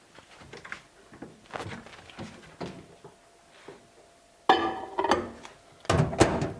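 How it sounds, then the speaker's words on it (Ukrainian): A bowl goes into a microwave: a series of close clunks, knocks and rattles, with louder thuds near the end as the door and bowl are handled. "і кладу в мікрохвильову."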